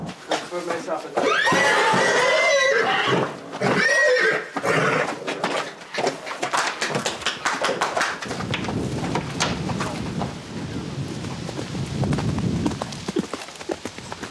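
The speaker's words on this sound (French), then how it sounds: "C'est un très joli cheval." A horse neighs loudly in shrill whinnies, followed by softer hoof clatter and outdoor rumble with voices faintly present.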